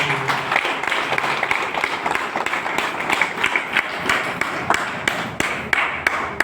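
An audience at a wellness business seminar claps loudly, a sustained round of applause with sharp individual claps standing out near the microphone throughout.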